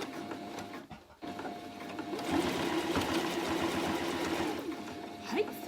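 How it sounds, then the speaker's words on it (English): A sewing machine back stitches a small fabric headphone pouch, a close, steady mechanical whirr that runs continuously for about three seconds after a quieter stretch with brief handling noises and a pause. "Just back stitch over it as well, and that just gives a little bit of extra reinforcement at those points"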